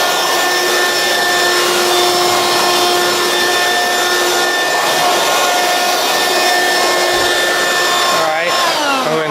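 A Hoover Quik Broom Encore S2551 two-speed stick vacuum runs steadily and loudly with a constant motor whine for the whole stretch, with no talking over it.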